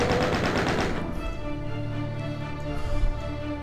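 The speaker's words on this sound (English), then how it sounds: "Oh, the chain gun's a lot of fun." Rapid automatic chain gun fire from the 1993 video game Doom, remastered, a dense burst of loud repeated shots lasting about a second, then fading into ringing game ambience and music.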